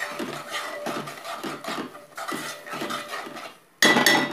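A spoon scrapes and clatters rhythmically against a pan as tomato-onion puree is stirred over a full flame, the repeated strokes close and clear, ending with a louder burst of metallic clanking.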